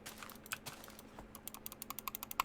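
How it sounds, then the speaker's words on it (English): Rapid computer mouse clicks while someone plays Beta Minecraft, a quiet run of sharp, close ticks that speed up into a steady, fairly even series toward the end, with no talking. "You can hear me clicking."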